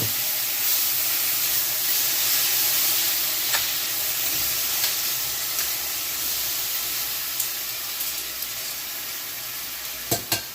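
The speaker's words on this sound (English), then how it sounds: "Ideally, you want it to keep doing that hardcore sizzle" Korean-style BBQ pork sizzles in canola oil in a pan with a constant bright hiss and spatter, and a few sharp clicks of tongs near the end.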